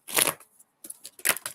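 A tarot card deck being shuffled by hand, a loud burst of riffling followed by a pause and then two more shorter bursts of card flutter, close and with no talking.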